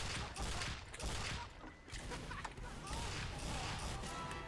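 Team Fortress 2 gunfire rattles in a rapid, continuous stream of loud shots and impacts, a dense chaotic barrage running the whole length.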